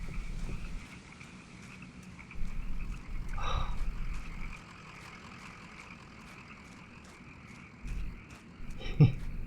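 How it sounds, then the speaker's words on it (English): Frogs croak in a steady chorus of faint repeated calls in a video game, with a low rumbling engine-like drone rising and fading underneath. "Hear the frogs."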